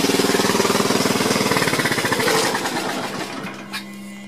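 A Gravely 526 walk-behind tractor engine runs with the choke partway on, a loud, close, steady rapid chugging that roughens and drops slightly in level partway through, with no talking.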